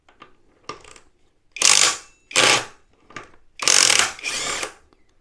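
A Milwaukee 18V impact wrench removes a bolt in several short, loud bursts of hammering rattle separated by brief pauses, with faint clicks between bursts.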